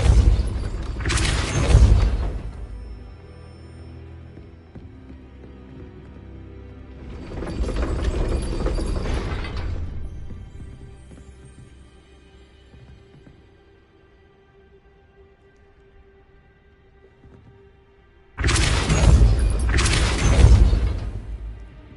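Depulso spell cast in Hogwarts Legacy, three loud booming magical blasts with whooshing bursts, the first and last sharp and close, the middle one broader and rolling, separated by quiet ringing decay.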